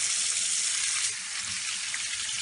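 Steady broadband hiss of hot water pouring from a tap into a blocked sink, continuous and fairly loud throughout with no voices.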